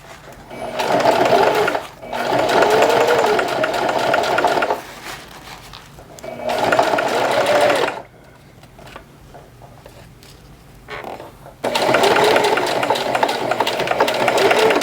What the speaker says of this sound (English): Key step right there, back stitch, your first start of your stitch to knot it